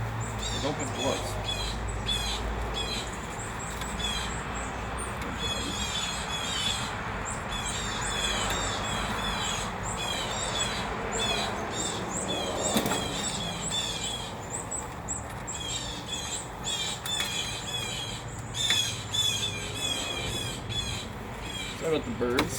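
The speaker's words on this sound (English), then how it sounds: "Sorry about the birds. They were quite loud." Loud, busy bird calls, squawks and chirps repeat throughout, with a low rumble and faint background voices underneath.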